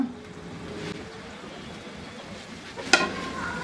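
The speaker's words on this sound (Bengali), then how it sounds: "এখন আমি এর মধ্যে দিয়ে দিচ্ছি এই বিন স্প্রাউটগুলা" Bean sprouts go into a pan of frying egg dish and set off a soft, steady sizzle with faint stirring, ending in a sharp clink of a utensil near the end. No one talks.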